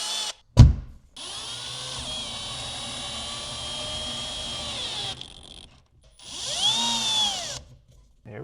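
A high-pitched step drill whines in two bursts while drilling out rivets, a long steady run and then a shorter one, preceded by a sharp knock.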